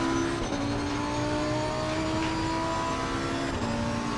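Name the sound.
car engine revving in video game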